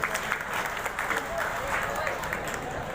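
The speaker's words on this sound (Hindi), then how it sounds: "मंच की तरफ से एक बारी जोरदार तालियां पूरी टीम के लिए हो जानी चाहिए" An audience at a community mass wedding of ten couples applauds, a dense, steady wash of clapping from a crowd that carries on throughout, with voices mixed in.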